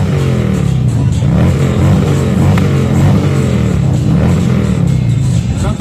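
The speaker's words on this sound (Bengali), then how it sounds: "আপনাদের সাথে বাইকের আওয়াজটা একটু শেয়ার করলাম।" An old-model motorcycle engine revs loud and close at a busy public event in Italy, a steady rumbling roar that swells and eases over several seconds without pause.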